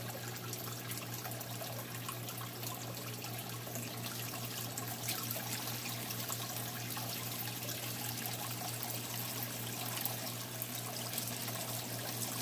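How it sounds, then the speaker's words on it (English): Water trickles and gurgles steadily through an open-ended siphon tube draining an aquarium tank, a soft continuous flow with a low background hum. "I always use a regular open-ended siphon on this so that I can actually remove stuff from the tank"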